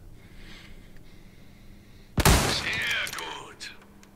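A loud burst of gunfire from a shooting range in Resident Evil 4 Remake erupts midway, a sharp shot followed by ringing, clattering tail, after a quiet ambient stretch.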